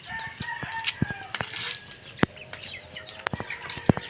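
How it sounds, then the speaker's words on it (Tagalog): Roosters crow in overlapping calls near and far, mixed with clucking chickens and scattered sharp clicks and wing flaps. "madaming manok."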